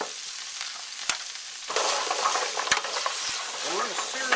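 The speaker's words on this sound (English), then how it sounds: "And we're going to sear these up." A whole yellow onion and about half a pound of carrots searing in a pan for beef burgundy, a loud close sizzle that jumps up as they hit the hot fat, with clinks and stirring scrapes.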